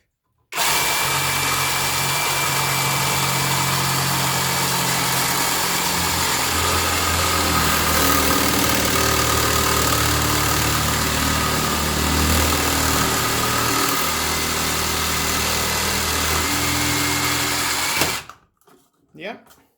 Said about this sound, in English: Now next we have this old drainage pipe, and I think it's time for cutting.